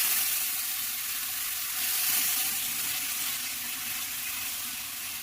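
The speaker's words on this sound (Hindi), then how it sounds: "अब डोसा का बटर इसमें डालेंगे क्योंकि ऑयल अच्छे से गर्म हो गया है।" Dosa batter hitting hot oil on a pan gives a steady, close, broadband sizzle that holds evenly for about five seconds with no voices over it.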